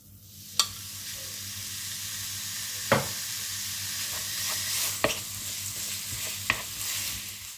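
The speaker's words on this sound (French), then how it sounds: "je verse de l'huile d'olive un peu partout. Voilà. Et on va faire revenir la viande hachée." Minced meat browning in olive oil in a frying pan makes a steady close sizzle. A few sharp clacks of a utensil against the pan punctuate the frying, and nobody speaks.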